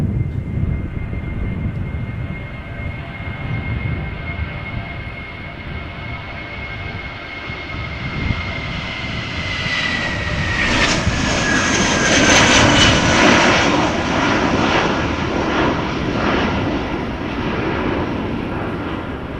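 An eight-year-old Vueling jet at Amsterdam Schiphol, departing for Malaga, spools up its engines: a droning whine climbs steadily in pitch and builds into a louder, fuller roar near the end, with no talking.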